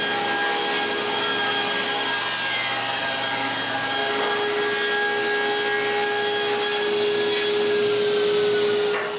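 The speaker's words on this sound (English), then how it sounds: "I can rip strips for the interior frames of the dresser." A power saw rips wood strips for the interior frames of a nine-drawer dresser, a loud steady whine running throughout and shifting pitch slightly as the blade cuts.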